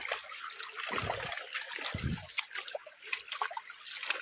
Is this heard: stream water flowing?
yes